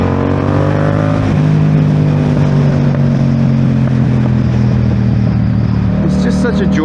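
A 2023 Yamaha MT-07 motorcycle with its exhaust baffle removed growls loud and close, its engine note holding steady and easing down before rising again briefly at the end.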